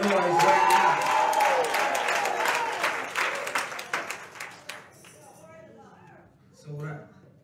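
A church congregation claps and cheers loudly at a gospel performance, a dense wash of applause and crowd noise that thins into scattered claps and fades out, with a brief voice near the end.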